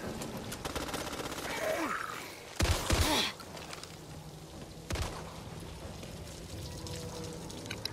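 Bursts of automatic gunfire and impacts in the video game Back 4 Blood, with a heavy volley near the middle under game noise and brief voices.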